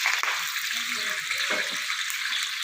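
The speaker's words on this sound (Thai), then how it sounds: "เอาผักเทียมลงทอดให้เหลืองซะก่อน" Garlic frying in hot oil until golden, a continuous bright sizzle with a faint voice briefly underneath.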